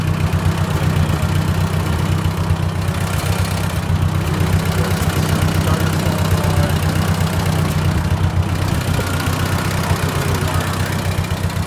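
A 1955 Ford 850 tractor engine runs steadily on a cold day, a loud, continuous low idle throb close by with no break across the whole stretch.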